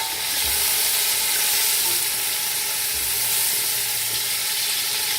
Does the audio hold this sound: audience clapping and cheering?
no